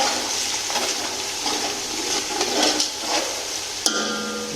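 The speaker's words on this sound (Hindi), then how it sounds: "साथ चिकन डाल के भूनना है।" Chicken with ginger-garlic paste frying in a pan for pulao, a loud continuous sizzle with stirring scrapes and a sharp clink near the end, no talk.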